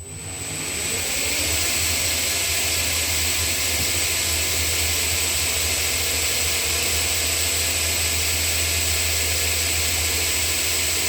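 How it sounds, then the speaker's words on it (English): A homemade surface grinder attachment mounted on a 2x72 belt grinder runs steadily, a loud continuous motor hum with a high, constant belt whine, spinning up at the start and then holding even with no talk. "this is a surface grinder attachment I made for my 2x72 grinder"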